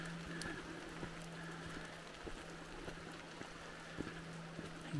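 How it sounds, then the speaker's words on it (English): Rain falls on a wet forest trail, a soft, steady hiss and patter with occasional distinct drips, heard quietly alone with no voices. "You can see it's a wet, rainy day."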